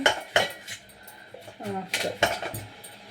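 Broccoli is cut up for a spicy broccoli and corn soup, producing a series of knife clicks and clinks of utensils against a dish, irregular and close, with a faint voice briefly in the background.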